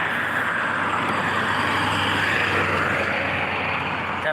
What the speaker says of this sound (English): that's an awesome truck.